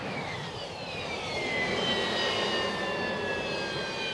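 A Harrier jump jet's engine roars steadily, with descending whine tones over a broad, continuous rush that swells slightly midway, heard alone without voices.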